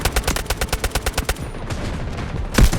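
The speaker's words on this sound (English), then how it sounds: "Artillery barrage incoming." Artillery barrage in the Delta Force warfare video game: a rapid series of about a dozen loud, evenly spaced blasts, then a rumbling lull and a final heavy close impact.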